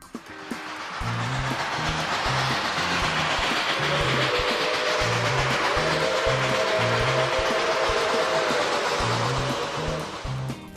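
A heavy steam locomotive, the Chessie Steam Special, rumbles past pulling a train with a steady rhythmic chugging of beats, loud and close, a broad hissing wash above it building and holding throughout.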